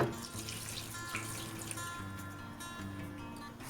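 Water rinsed out of a mixer jar is poured into beef for a Kerala-style beef fry, giving a steady running, splashing pour that continues evenly throughout with no voices.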